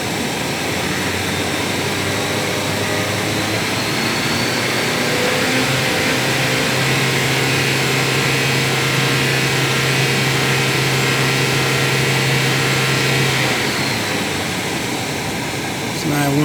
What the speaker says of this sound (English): Rev it and hold it.